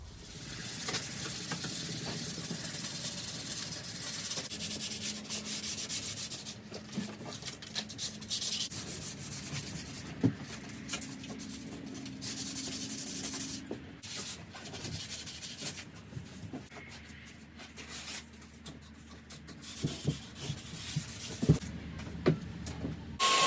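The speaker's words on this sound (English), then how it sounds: "now I've just got to sand it all back" Hand sanding of a wooden floor before varnishing, with steady close scratchy rubbing strokes repeating irregularly for over twenty seconds, occasional knocks and pauses between passes.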